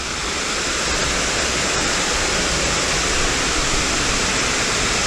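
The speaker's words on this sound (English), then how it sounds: "this waterfall has been banned." The Badalgiri waterfall, a hidden and dangerous cascade, roars in a loud, continuous rush of falling water close by, a steady wall of noise with no voices over it.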